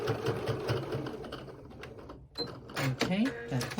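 A sewing machine stitches a small bag in a fast, close, whirring rattle for about two seconds, then stops as soft handling sounds and a brief voice follow.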